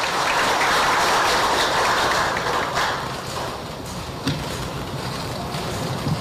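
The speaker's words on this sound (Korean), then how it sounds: "뜨거운 박수 부탁드리겠습니다" A large crowd at a political rally in Busan claps loudly. The sound is a thick, continuous roar of applause that stays close and strong throughout, easing slightly toward the end.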